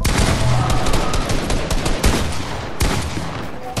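Dense, rapid gunfire from the Fortnite video game, loud and continuous automatic bursts with overlapping shots and sharp cracks, no voices.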